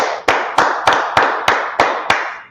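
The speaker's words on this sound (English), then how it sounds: "Let's clap it up for the Lord." Church congregation clapping in praise to the Lord: eight sharp, evenly spaced claps in a steady rhythm, close and loud, with no talk over them.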